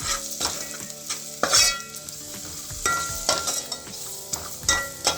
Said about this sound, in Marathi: गरम मसाला हा तेलात परतून घ्यायचं छान